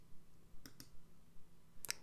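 A computer mouse clicks a few times while someone works in a web app: two quiet single clicks early on, then a sharper, louder double click near the end, each short and crisp over a faint room hum.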